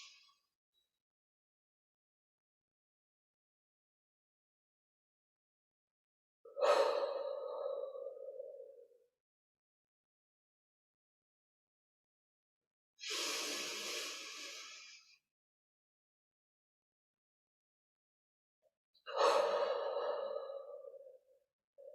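Three slow, deep breaths stand alone in near silence, spaced several seconds apart. Each is a long, soft, airy rush of air, close to the listener, and they alternate between inhaling and exhaling.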